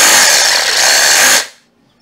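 Makita brushless cordless drill running at full speed, a loud steady whirring buzz held for over a second and then spinning down quickly into silence.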